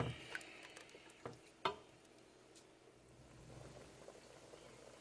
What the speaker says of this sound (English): Got a nice simmer going here on this chowder.